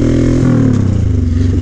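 Honda 1100 Sabre motorcycle fitted with a Cobra exhaust pipe revs close by, a loud throbbing engine note that drops in pitch after a brief rise, with no voices over it.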